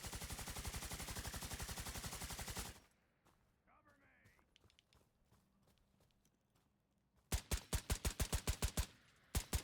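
Automatic gunfire in the special forces simulation game Tacsim, loud rapid bursts at close range that open and close the moment, with quieter shuffling and faint clicks between.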